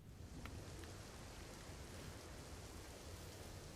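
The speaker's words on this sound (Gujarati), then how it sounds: "પવન સાથે વરસાદ વરસી રહ્યો છે" Heavy rain driven by wind across open farmland in Devbhumi Dwarka district, Gujarat, a steady dense hiss that fills the whole stretch at an even, moderate level with no voices.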